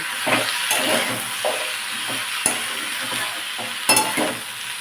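Shukto vegetables with turmeric powder and salt being stirred in a hot pan, repeated spoon scrapes and knocks against the metal over a steady frying sizzle.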